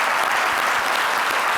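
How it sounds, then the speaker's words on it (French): An audience bursts into loud, continuous clapping for the performer Queen Myriana in a live TV show studio, a dense and even wall of applause with no talk on top. "On va l'applaudir bien fort,"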